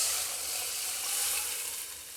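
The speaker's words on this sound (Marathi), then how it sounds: "आता ह्याच्यामध्ये आपल्याला ही डाळ टाकायची" Dal poured into a hot pan of sautéed tomatoes and coriander for Maharashtrian varan, giving a steady, close sizzle that holds evenly for a couple of seconds and then fades slightly, with no talking.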